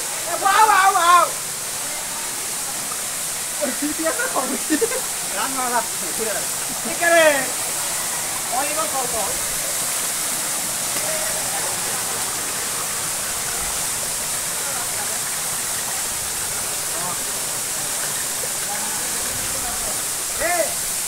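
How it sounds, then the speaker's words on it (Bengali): A waterfall at Sajek Valley pours with a steady, even broadband rush that fills the whole clip, while voices speak briefly over it near the start. "আমরা ঝর্ণাতে চলে আসছি, দেখেন"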